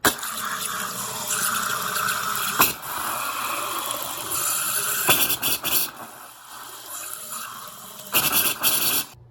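Hot water running from a bathroom faucet that has been spitting black chunks, fed by Sharkbite water heater hoses: a steady, hissing rush of water with a few brief breaks and surges, close and fairly loud.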